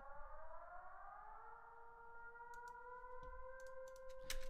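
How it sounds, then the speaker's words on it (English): A siren wails with steady sliding tones, synthesized in Serum from a plain sine wave with no detuning, rising slowly, accompanied by a few faint clicks and taps toward the end. "I also have this little like siren noise that I made in Serum"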